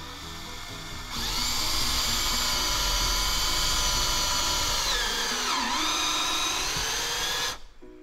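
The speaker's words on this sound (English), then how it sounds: "I'm gonna drill that sucker right down in there." A power drill sinks a self-tapping screw into a wooden baluster, a loud, close, high whine that runs steadily for about six seconds, dips in pitch as the screw bites, then cuts off.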